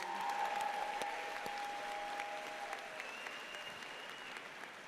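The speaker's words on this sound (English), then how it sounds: "we get one more round of applause for our MPM graduates" Sustained applause from a large audience honoring graduates at a university commencement ceremony, a steady even wash of clapping heard at a distance in a big hall, with faint tones running underneath.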